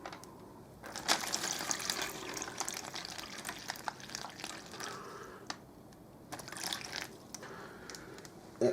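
Six ounces of water poured into a US Army MRE flameless ration heater bag, an uneven trickling and splashing that runs for several seconds with brief louder bursts, close and fairly quiet.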